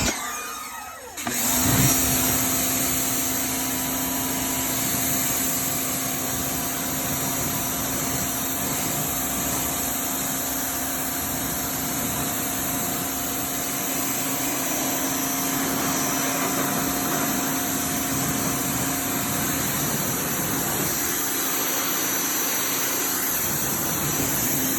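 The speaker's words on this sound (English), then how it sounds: "Oh, it might help if I turn on the power washer." A power washer runs continuously on wheels and tires after a short quiet start, its motor and spray making a steady, loud hiss and hum for the rest of the time.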